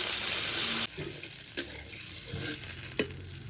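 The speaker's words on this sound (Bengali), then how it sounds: "এখন পরিমাণ মতো জল দিয়ে দিচ্ছি" Water is poured into beetroot frying in a pan, with a loud, hissing sizzle that cuts off abruptly and drops to a quieter bubbling simmer, broken by a few close clinks of a utensil against the pan.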